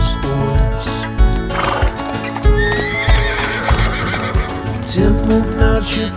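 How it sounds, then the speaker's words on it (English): A horse named Horace neighs loudly and repeatedly, close by, over steady clip-clop hoofbeats and some background clutter. "Horace, the InfoWars horse"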